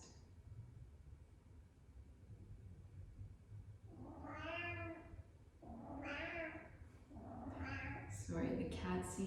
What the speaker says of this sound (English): the cat seems to want a second meal